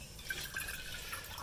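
Thin trickle of cold water from a tap running into a container, a soft continuous splash with faint dripping, fairly quiet and close.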